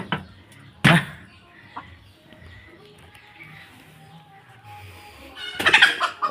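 Desi hens in a poultry house, loud clucking squawks bursting out near the start and end, with softer clucks and faint rustling between.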